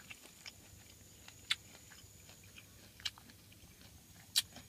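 Someone bites into and chews sweet star fruit, giving quiet moist chewing under a faint background hum, with three sharp crisp bite crunches spaced a second or so apart.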